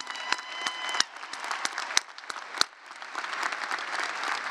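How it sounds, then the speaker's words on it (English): Audience applause at a college commencement ceremony: a scattered burst of claps with a few sharp, close individual claps standing out over a steady wash of crowd clapping, moderately loud and without speech. "So let's give Angel another round of applause."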